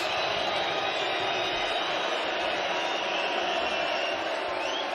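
Dense, steady roar of a Belfast arena crowd cheering as a hometown fighter walks out at a PFL Europe event, a continuous wash of noise with no breaks.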